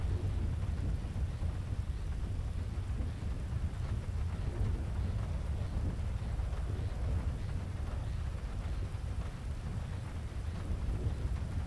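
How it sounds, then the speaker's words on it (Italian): Steady rain falls with thunder rolling low underneath, a constant dense hiss of drops with a deep continuous rumble, fairly faint and even throughout with no voices. "Pioggia."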